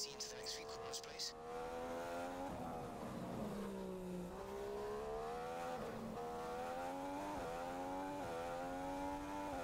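Formula One race car engine in F1 2015 at the Malaysia Grand Prix, a loud continuous high-pitched whine that rises through the revs and drops at each gear change, with someone talking over it.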